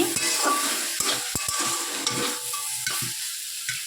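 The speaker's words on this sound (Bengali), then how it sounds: "এই যে ভেন্ডি আর আলু ভাজছি" Okra and potatoes sizzle and crackle in a hot pan, with a few sharp clinks of a utensil stirring, close up and with no voices.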